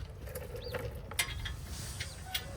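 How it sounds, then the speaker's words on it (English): A 19 mm castle nut being loosened on a 2018 Subaru Outback front wheel during bearing replacement, heard as a few close mechanical clicks, creaks and a metallic tap, with no voices. "we're gonna go ahead and undo the castle nut"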